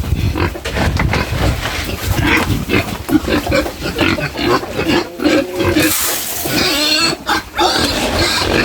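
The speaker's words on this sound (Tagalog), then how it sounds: "Baboy yan baboy." Pigs on a farm grunt and squeal continuously at feeding time, a dense, loud, overlapping chorus of oinks close by, with a person speaking briefly among them.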